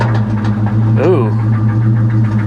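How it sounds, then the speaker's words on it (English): A fire-damaged Ford Mustang GT engine runs rough at idle, with a steady low rumble, a brief rising rev in the middle, and a faint rod knock. "that engine didn't sound very healthy, did it? That is a rod knocking."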